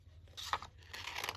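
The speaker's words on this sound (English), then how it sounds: "let's just cut that off" A short crunchy snip of scissors cutting craft material, one close crisp cut heard alone and fairly faint.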